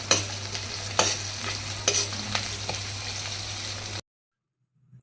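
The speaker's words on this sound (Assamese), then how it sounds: "তাকে গোটেইখিনি লৰাই লওঁ" Onions frying with a little ginger and garlic in a pan, stirred with a few sharp scraping strokes over a steady close sizzle, cutting off abruptly to near silence at the end.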